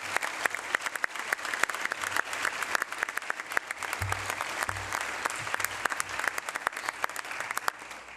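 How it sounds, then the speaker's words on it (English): Steady, dense applause from a crowd, many hands clapping continuously at an even level with scattered sharper claps throughout. "Please join me in a round of applause"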